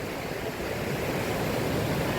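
Waterfall at the Walls of Jericho in Alabama, a constant broadband roar of falling water, steady and unbroken, with no voices.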